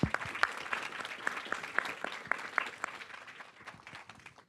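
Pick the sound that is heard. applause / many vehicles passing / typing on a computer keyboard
applause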